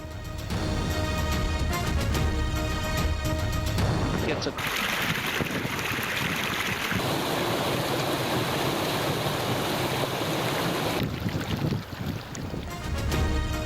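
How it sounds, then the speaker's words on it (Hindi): A cold mountain stream in Diamer district, Gilgit-Baltistan, rushes with a steady, loud broadband hiss of water, with music before and after it. "शोर मचाता ठंडा मीठा पानी"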